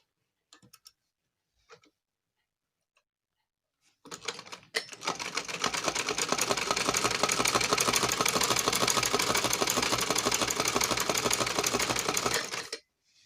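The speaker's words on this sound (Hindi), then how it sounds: "बाकी दोनों साइड है इसकी सिलाई कर लेती हूँ" A sewing machine stitches the sides of cloth for a face mask, starting after a few faint taps and running in a fast, steady, close mechanical chatter for about nine seconds before stopping.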